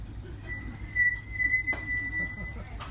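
A steady, thin human whistle holds one pitch for about two seconds, imitating snowy wind in Greenland, with faint clicks and low rumble in the background.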